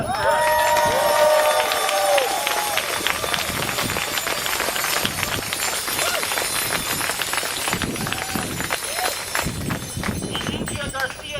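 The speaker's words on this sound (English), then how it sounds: "Round of applause for her." Outdoor cycling rally crowd cheering and applauding loudly at close range for most of the stretch, with shouts and a public-address voice talking over the noise.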